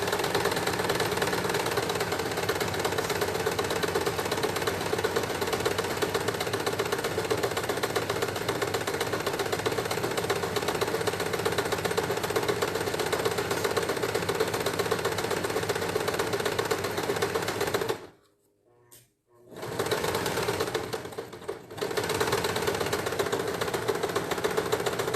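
A sewing machine runs continuously while stitching a child's shorts, a steady close mechanical drone that cuts out briefly near the end, then resumes for a moment.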